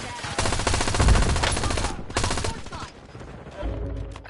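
Rapid automatic gunfire rattles in Call of Duty Warzone: loud, close bursts of repeated shots separated by brief pauses, ending with a heavier thump and no talking.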